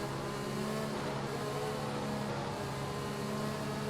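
Racing cars drone steadily around a track in a racing video game, a continuous layered engine hum at moderate level with no distinct pass-bys and no talking.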